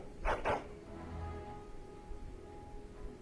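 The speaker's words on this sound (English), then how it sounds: "But listen to that barking." Dog barking in the video game Dragon Age Origins, two quick barks close together at the start, then a low hum of game ambience.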